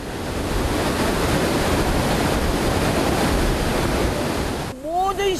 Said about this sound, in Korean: 거친 소리를 내며 쏟아져 내리는 호국폭포는 무엇이든 다 삼켜버릴 듯